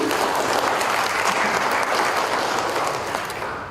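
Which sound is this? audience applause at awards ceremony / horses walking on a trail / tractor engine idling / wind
audience applause at awards ceremony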